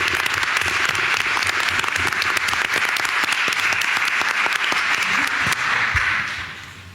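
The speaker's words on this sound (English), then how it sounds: "give another round of applause to our custodians" A round of applause fills the room at a school board meeting in honor of the district's custodians, steady and dense, then tapering off near the end.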